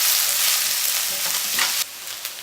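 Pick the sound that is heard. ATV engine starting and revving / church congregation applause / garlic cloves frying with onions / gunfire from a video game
garlic cloves frying with onions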